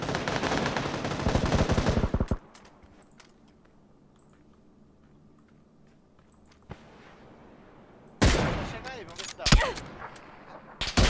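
Bursts of rapid video game gunfire open the clip, then a quiet stretch before more loud shots and blasts return near the end.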